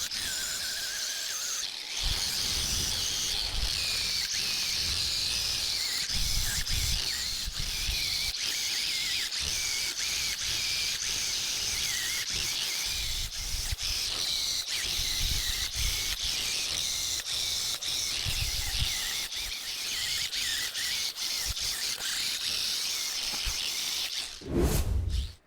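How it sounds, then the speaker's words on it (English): A wire brush spinning on an angle grinder scours BMW 2002 brake calipers, giving a steady, loud, continuous high-pitched squealing whine for about twenty-three seconds with occasional scratchy variations, stopping near the end. "Then I'll take a wire brush on the angle grinder."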